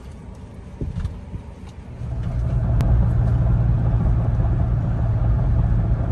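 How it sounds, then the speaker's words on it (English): A car being driven: steady low engine and road rumble that grows louder after a quieter start and then holds constant, with a brief spoken word near the beginning. "I'll be driving today"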